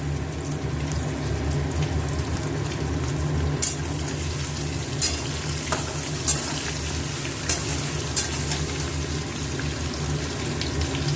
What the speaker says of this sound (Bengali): দিয়ে একটু আলুগুলোকে ভাজা ভাজা করে দেবো